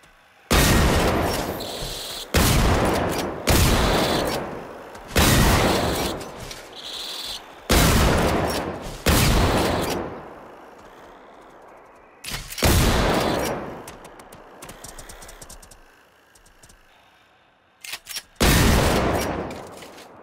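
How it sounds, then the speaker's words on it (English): Repeated bursts of loud gunfire from the video game Generation Zero, several sustained volleys separated by brief pauses, with rattling shots echoing between them. "Do you hear how loud the gunshots are, though?"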